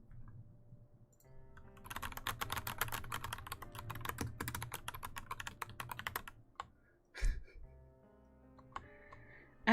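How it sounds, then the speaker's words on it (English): Rapid typing on a mechanical keyboard with brown switches, a dense run of clacky keystrokes filling most of the stretch, with game music and sounds underneath and a voice speaking briefly near the end. "You like my keyboard sounds?"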